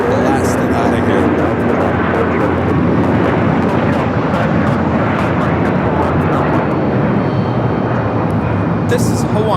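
A Hawaiian Airlines Airbus A330-200 takes off from Los Angeles airport with a dense, continuous jet roar that fills the scene, while a voice talks over it.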